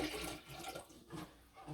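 A toilet flushing after urine is dumped in from a bedpan, a short, close whoosh of rushing water heard alone.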